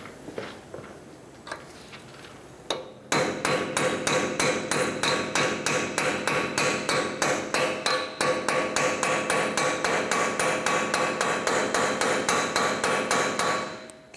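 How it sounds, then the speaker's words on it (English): A few scattered knocks, then a long, steady run of loud, rapid metal-on-metal hammer blows striking a punch on a 2013-2019 Ford Escape axle, evenly paced and close up. "I'm going to get a punch and a hammer,"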